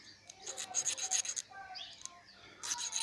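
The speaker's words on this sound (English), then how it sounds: "These will be sanded, as I mentioned, with the Dremel." Close, scratchy rubbing and rasping in uneven bursts as a Dremel sands a copper band ring, with brief pauses between passes.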